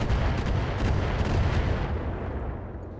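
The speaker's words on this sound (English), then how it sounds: "And we're going to drop our artillery right now on the Centurion" An artillery strike lands on a Centurion mech in RogueTech, a quick burst of heavy booming shots with rumbling low end that thins out and fades toward the end.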